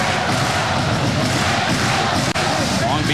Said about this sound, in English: The crowd trying to urge the home team on.